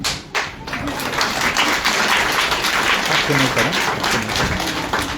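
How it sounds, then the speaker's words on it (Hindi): An audience at a DXN business success seminar claps steadily, with broad dense applause lasting throughout, some voices audible under it. "उनके लिए ताली बजा दीजिए"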